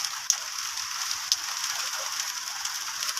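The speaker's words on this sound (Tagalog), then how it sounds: "Maingay yung yung patak ng ulan." Steady patter of rain on a roof, a dense high hiss with a couple of sharper drip ticks, no voices.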